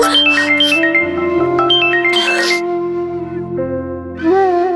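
A phone rings with an incoming call, playing a loud melodic ringtone of stepped tones that repeat close by, with a brighter burst partway through.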